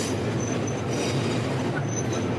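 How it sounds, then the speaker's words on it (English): A train passing by in Asakusa, Tokyo, with steady rumbling rail noise, clattering wheels and faint high squeal, close and continuous. "there goes the train."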